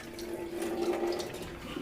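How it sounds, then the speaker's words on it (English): Dirty water from soaking lentils is poured off in one steady, continuous splashing stream, close and moderately loud with no talking. "We will throw this water"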